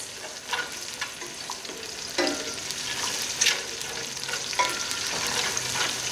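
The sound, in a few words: green chillies frying in oil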